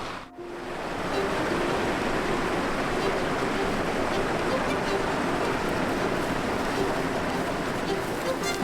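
Rushing creek water flows steadily in Idaho, a loud, constant broadband roar with no break, close by.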